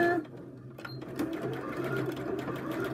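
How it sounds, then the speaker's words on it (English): Close, steady whirr of a sewing machine running a narrow seam on fabric, with a person talking over it. "I'm just going to quickly machine down here, taking a very narrow seam"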